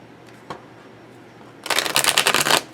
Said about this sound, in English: I'm going to go ahead and try to shuffle and see how they shuffle.